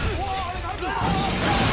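Glass shatters as an enemy is thrown into it during a fight in Sleeping Dogs, a loud crash with scattering debris amid game sounds, followed by a burst of noisy clatter.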